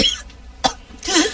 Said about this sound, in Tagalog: sige pa kag ubo